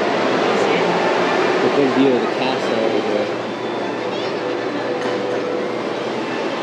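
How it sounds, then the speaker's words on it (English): A train rumbles past with a steady, loud rolling roar and some wheel screech, while people talk nearby over the noise, at Walt Disney World during a Halloween party. "Train's coming."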